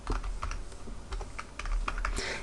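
Quick, irregular keystrokes tap away on a computer keyboard, close and clear, a steady run of clicks over two seconds with no talking.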